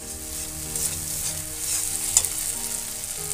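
Spice paste mixed with yogurt sizzles in a hot wok for a Bengali baingan bharta, a steady, close frying hiss with one small pop partway through and no talking.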